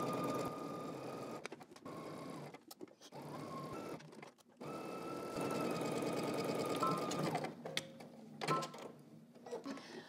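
A home sewing machine runs in bursts of rapid stitching along a crotch seam of a McCall's pattern garment, with brief pauses between runs, close and steady.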